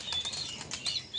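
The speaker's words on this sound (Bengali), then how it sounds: "এই পায়রা বেরিয়ে গেলো" A domestic pigeon released from a house loft takes off with a quick, close burst of flapping wings, heard alone.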